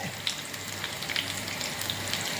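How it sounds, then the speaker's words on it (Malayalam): Onions and curry leaves frying in a pan for goat leg soup, a steady soft sizzle with faint crackles and light stirring scrapes throughout, no talking. "നമ്മുടെ ഉള്ളിയൊക്കെ പൊരിഞ്ഞിട്ടുണ്ട് അതിലേക്ക് നമ്മൾ കുറച്ച് കരിയേപ്പില ഇടുവാണ്"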